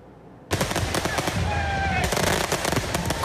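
Fireworks crackle and pop in rapid, dense bursts during a street celebration in Brazil after a Supreme Court ruling. The loud barrage starts suddenly after a brief quiet moment and continues as fast, overlapping bangs.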